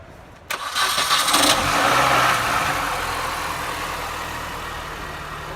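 A car engine cranks briefly and catches on a NOCO GB150 jump starter, then settles into a steady idle that continues to the end.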